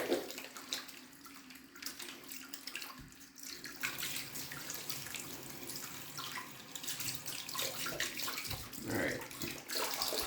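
Tap water runs steadily into a sink while soapy hands are washed under it, a continuous close splashing wash with shifting spatter and no talking.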